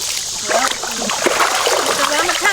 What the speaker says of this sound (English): She sticks her head in there and blows bubbles.